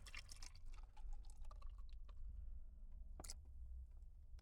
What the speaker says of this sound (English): I'm only going to be pouring part of it out.